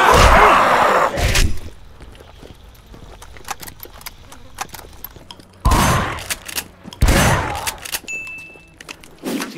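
Loud gunfire rings out in the Vietnam War game Shellshock as shots are fired at zombies, with several sharp, heavy blasts separated by quieter stretches of ambient noise and scattered clatter.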